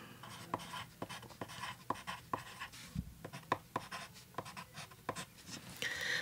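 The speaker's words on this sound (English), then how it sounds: "So I'll use these pencils to write the pros and cons." A colored pencil, one end of a double-ended pencil, scratches across paper in a string of short, close strokes, quiet and steady with small pauses between them, no voices over it.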